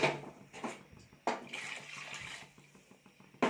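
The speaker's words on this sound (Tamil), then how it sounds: "இப்போ சால்னாக்கு தேவையான அளவுக்கு தண்ணி இதோடவே நாமும் சேர்த்துடலாம்" Water from a rinsed mixer jar splashes into a pot of parotta salna curry in short, uneven pours with abrupt splashy bursts, close and alone.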